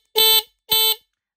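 Two short, piercing electronic blasts from a Pidzoom FH90 finger-controlled horn, loud and close, separated by a brief gap and followed by silence.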